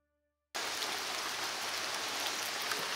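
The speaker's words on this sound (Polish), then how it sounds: "Pada." Steady rain falling outdoors beside a folk crafts workshop in Warmia and Mazury, a dense even hiss that starts abruptly after a brief silence and continues at constant level.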